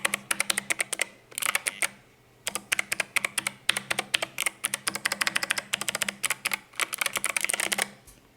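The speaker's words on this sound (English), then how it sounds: "the sound of this is pretty cool too" Rapid clicky key presses on an 8BitDo Retro 18 mechanical numpad calculator come in bursts with short pauses, crisp and close, like fast typing.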